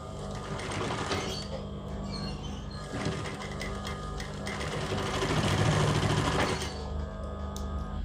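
A sewing machine stitches a mitered fabric corner along a pressed crease, running in close, rapid mechanical bursts that pause briefly and restart, with a slight speed-up near the end.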